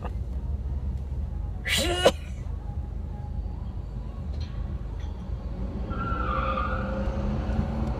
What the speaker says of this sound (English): I think this guy's gonna burn some rubber over there.